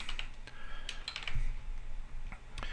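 Keyboard keys tap out a Photoshop shortcut for merging a layer, a quick run of crisp, close clicks, some in small clusters, with no talking over them.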